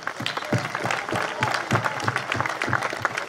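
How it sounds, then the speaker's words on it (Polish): Crowd applauding for the young supporters of Raków Częstochowa during the club's pre-season team presentation, steady dense clapping throughout with some voices mixed in. "Sądzę, że dla tych młodych kibiców teraz zróbmy wielkie brawa."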